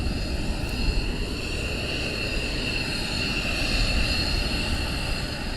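Military jets at RAF Lakenheath during surge operations, C models flying without afterburners, produce a steady, broad roar that holds evenly throughout at moderate distance with no voices.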